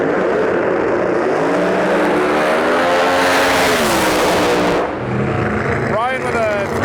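A Pro 275 drag race car built by RJ Race Cars, an MH7 Pro Line chassis, launches at the U.S. Street Nationals with a loud, rising engine roar that climbs in pitch and then fades as the car pulls away, while a commentator talks over it.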